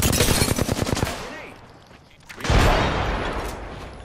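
Rapid automatic gunfire rattles loudly in Apex Legends, a fast burst of shots for about a second, then a short lull before another loud crashing blast that rumbles and fades.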